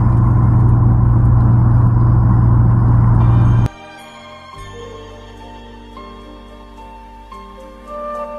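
A car engine runs loud and close with a steady droning rumble, then cuts off abruptly, leaving a quieter hum with faint tones and a brief swell of engine noise near the end.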